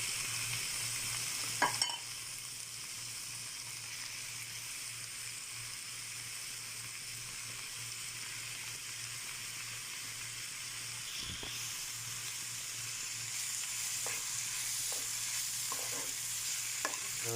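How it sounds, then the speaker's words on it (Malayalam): Canned tuna, drained of its sunflower oil, stirred into a masala in a pan, giving a steady close sizzle and hiss with occasional scraping stirs and no talking. "ടൂണ നമ്മുടെ മസാലയായിട്ട് നല്ലതായിട്ട് മിക്സ് ചെയ്ത് ഒരു 2 മിനിറ്റ് ഒന്ന് വേവിക്കാൻ വെച്ചാൽ മാത്രം മതി"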